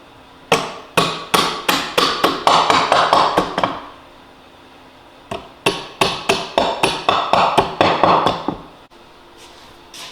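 Sharp hammer blows knock bench dogs into wood in two quick rhythmic bursts, each a steady run of ringing knocks with a short pause between, close and loud.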